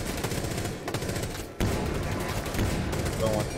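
Gunfire in the Rainbow Six Siege video game, dense bursts of rapid automatic shots running almost continuously through the moment, loud and close, with a brief pause midway and players talking over it.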